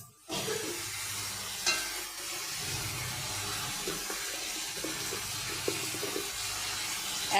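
Vegetables and fish-head masala frying and being stirred in a pan, a steady hissing sizzle running throughout with scattered clinks and scrapes of stirring.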